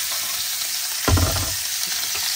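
Shrimp drop into hot leftover bacon grease in a pan at a beach campsite, setting off a loud burst of sizzling about a second in that settles into a steady frying crackle.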